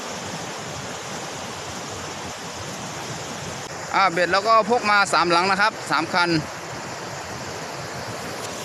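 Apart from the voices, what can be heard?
muddy river flowing in rainy season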